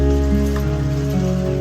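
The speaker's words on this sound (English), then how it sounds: "but got hail. Tiny pieces of hail." Tiny pieces of hail patter steadily on surfaces outdoors at a campground in Dominguez-Escalante Canyon, a close, continuous rain-like hiss over a low background hum.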